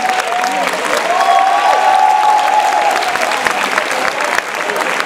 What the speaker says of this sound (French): Je vous demande d'applaudir Grégoire Delaporte